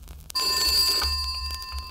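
A telephone bell rings steadily with a bright, continuous metallic tone, moderately loud and unaccompanied, as part of a 1967 Trumpton story about a post office telephone repair.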